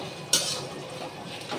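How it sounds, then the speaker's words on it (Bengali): A utensil scrapes through ginger and chili paste in a cooking pan, opening with one sharp metallic clink and then soft stirring scrapes over a quiet sizzle. "এবার ভালোভাবে নাড়ব।"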